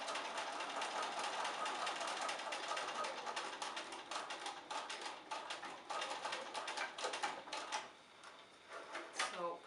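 A sewing machine runs in steady bursts of rapid stitching through a thick towel apron, close and fairly loud, with short pauses and a softer stretch near the end.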